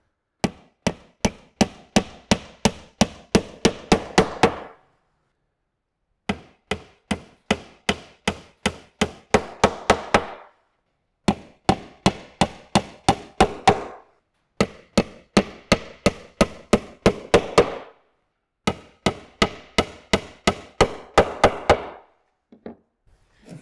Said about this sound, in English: Now for these nails, make sure that they're going straight up and down.